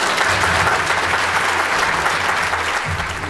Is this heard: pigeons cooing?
no